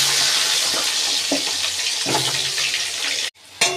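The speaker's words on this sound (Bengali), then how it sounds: "ওই তেলে আমি আলুগুলো ভেজে নিচ্ছি।" Potato pieces fry in the oil left from frying fish, a loud, close, bubbling sizzle with a few stirring knocks, then a sudden brief cut to near silence before the frying resumes.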